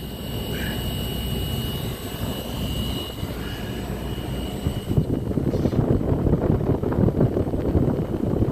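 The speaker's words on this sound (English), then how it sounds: "That's a fan." The outdoor fan of an RV heat pump runs in a steady, broadband whoosh with a low drone, growing a little louder and rougher partway through, with no talking.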